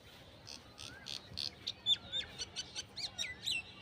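Mynas and other birds call in a dahlia flower garden beside a maize field, giving a string of short chirps and bright whistled notes at moderate distance over a low outdoor hum, with no talking.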